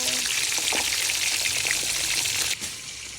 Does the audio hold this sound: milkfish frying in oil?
yes